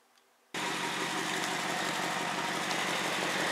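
A 2008 BMW X5 E70 engine starts up and settles into a steady, even idle that stays loud and constant to the end, with no talk over it.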